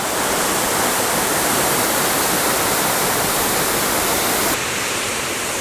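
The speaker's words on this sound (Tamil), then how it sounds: "இந்த அருவி ஊற்றுது இல்லையா, அது கீழே பாருங்கள் குளம் மாதிரி இருக்குது" Alasanthapuram falls near Natrampalli in Tirupattur pours into a pool below, making a steady, loud, unbroken roar of rushing water that dips slightly in level near the end, with no voices.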